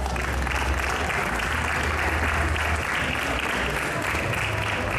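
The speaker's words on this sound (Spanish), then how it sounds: "Así que recibamos con un fuerte aplauso a José Sánchez Luque." An audience at an Andalusian fair proclamation event applauds a speaker's introduction with dense, steady clapping that holds loud and even throughout.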